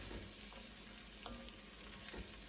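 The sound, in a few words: stirring and cooking risotto rice in a pan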